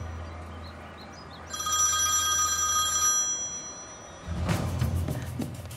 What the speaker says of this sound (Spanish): Llamada de Nare.